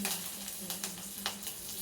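Tempering spices fry in hot oil for a Rayalaseema-style amaranth leaf stir-fry, giving a steady, close crackling sizzle with small pops throughout.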